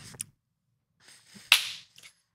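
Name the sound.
hand clap to mark the start of recording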